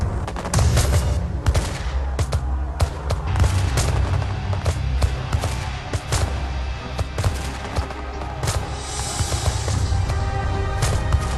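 Musket volleys and scattered gunshots in a battle scene, dense and loud, with many overlapping cracks and booms layered over a rumbling backdrop, sustained and continuous throughout.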